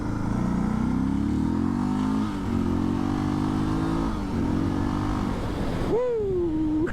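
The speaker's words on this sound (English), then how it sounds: "it does pick up pretty good for a thumper" Suzuki DR650 single-cylinder thumper motorcycle pulling hard under acceleration, its loud, close engine note climbing in steady rising sweeps through the gears before a sharp throttle blip near the end.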